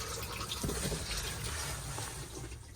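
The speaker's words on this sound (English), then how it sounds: "Use the toilet, give it a good flush after use" Flushing a cassette toilet in an Elddis Platinum 196 caravan gives a steady rush of running water, close and continuous for a few seconds and easing off slightly at the end.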